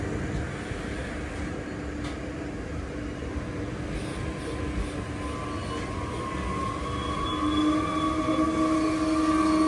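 The Guruvayur–Thiruvananthapuram Central intercity, hauled by a WAP-5 electric locomotive with LHB coaches, rumbles steadily on the track nearby. A rising tonal whine grows louder toward the end.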